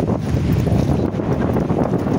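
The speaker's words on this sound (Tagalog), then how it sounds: "Ana ka kusog ang hangin" Strong wind at sea buffeting the microphone with a constant low roar, rough and gusty, no voices.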